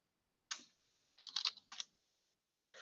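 Bursts of typing on a computer keyboard, quick clustered key clicks in three short runs with pauses between, close and fairly quiet with no talking.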